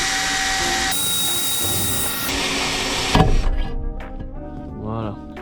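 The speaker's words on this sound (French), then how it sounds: "Ça fait un gros bruit qui fait un peu flipper, mais ça veut dire que vous l'avez bien percé" A loud, steady power drill whine grinds through van metal bodywork, drilling into the roof, for about three seconds, then cuts off abruptly, leaving quieter clatter and a voice.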